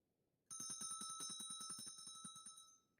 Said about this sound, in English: Ah, that was the bell.